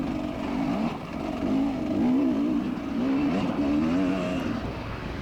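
Dirt bike engine droning steadily through a muddy cross-country race track, its revs rising and falling in wavering pitch, continuous and fairly close throughout.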